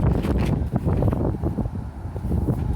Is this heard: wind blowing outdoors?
yes